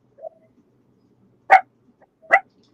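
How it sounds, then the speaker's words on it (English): Two short, sharp dog barks about a second apart, close and clear, with a faint yelp just before them. "your dog barking,"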